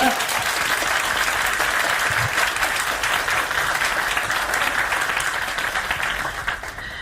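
Warm applause from a university student audience welcoming National Assembly lawmakers at a student forum, a dense steady wash of many clapping hands that holds for the whole stretch and eases slightly near the end.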